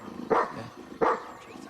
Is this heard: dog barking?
yes